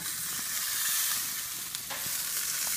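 Steak searing in a hot pan as it is turned, a steady bright hiss of fat spitting and sizzling with a couple of brief clanks or shifts, fairly quiet and free of talk.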